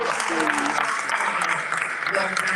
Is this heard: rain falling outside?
no